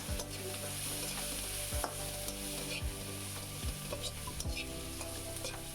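Ground coriander, turmeric and chili powder fry in a pan, giving a steady low sizzle with a soft hum beneath. A spoon scrapes and stirs through them in repeated strokes.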